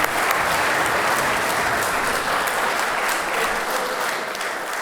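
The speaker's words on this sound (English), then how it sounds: "And while you're at it, clap for yourselves." Audience at a publication event bursts into sustained applause, a thick, even roar of many clapping hands heard close, continuous for the whole stretch and tapering slightly at the end.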